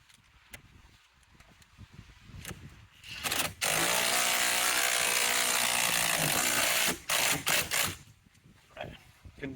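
Large bolt being tightened into a Chevrolet Cruze ignition switch assembly with a power tool, one long loud continuous whir of about three seconds, then short ratcheting bursts, close up, with quiet background talk.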